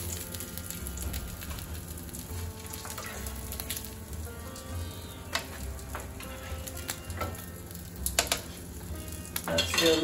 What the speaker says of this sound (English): now you need to take them out and put it in a tray that's already been greased